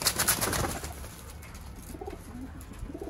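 Pigeons coo softly in a rooftop loft, a few low rolling calls close by after a brief louder rustle at the start.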